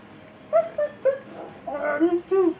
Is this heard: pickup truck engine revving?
no